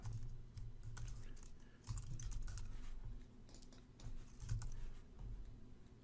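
Computer keyboard typing, quiet and close, in short bursts of keystrokes with brief pauses between them and no talking.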